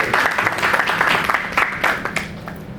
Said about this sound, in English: Everybody, please clap and welcome.